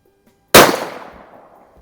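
A single sharp rifle shot from a Savage Model 93 in .17 HMR, loud and close, with a sudden crack followed by a long fading echo downrange, heard alone without talk.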